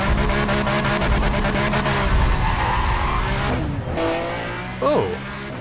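A Nissan 2000GT-R (C10) in the racing game Need for Speed World, its engine roaring steadily as it accelerates from the start. Tyres squeal partway through and the engine note drops late in the run.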